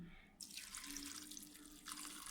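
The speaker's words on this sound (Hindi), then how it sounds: "चले, आधा ग्लास पानी डाल दिया।" Half a glass of water pours into a cooking pot of meat in two short bursts, a steady gushing splash with a brief pause between, fairly quiet and close.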